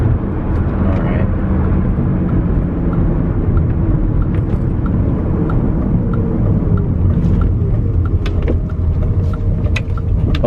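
A tuned BMW E39 M5 accelerates hard through second gear, a loud, continuous engine drone with deep rumble and road roar filling the cabin, steady and close throughout.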